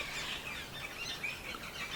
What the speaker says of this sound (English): Some chatty birds. They want to be in our vlog.